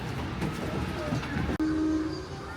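The Walt Disney World Railroad steam train at Magic Kingdom rumbles steadily as it gets underway, with a brief whistle tone cutting through the continuous rolling noise.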